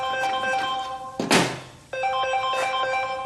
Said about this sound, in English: hold on, got a phone call.